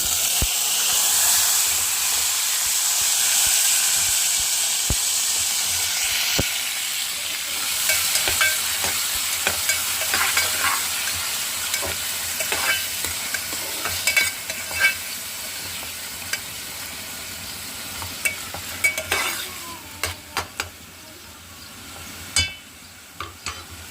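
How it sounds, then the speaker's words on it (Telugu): Tomato, onion and green chilli frying in a pan give a steady bright sizzle with steam hiss, broken by scraping stirs and clicks that grow more frequent toward the end, close and without talk. "టమాటా ఆనియన్ పచ్చిమిర్చి మూడు కూడా వేసుకొని ఫ్రై చేసేస్తాను"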